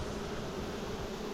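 Bees buzz around beehive boxes, a soft, continuous low hum from several insects nearby, with no talking.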